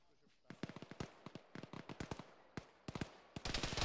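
Artillery fire in the Arma military video game: a long series of sharp, cracking reports in irregular clusters, growing into a rapid, denser volley at the end, with voices talking over it.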